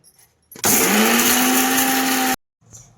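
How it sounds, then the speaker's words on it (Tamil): An electric mixer grinder whirs loudly at close range while grinding spices, garlic and tamarind, starting abruptly, running at a steady high-pitched motor whine for about two seconds, then cutting off sharply. "இது அப்படியே இதெல்லாமே போட்டு அரைக்கிறது தான்."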